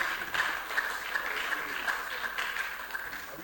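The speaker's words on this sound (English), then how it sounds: "A round of applause for her as she comes forward." Applause from an audience at a medical and dental alumni event, moderate and somewhat distant, continuing steadily with a little speech underneath.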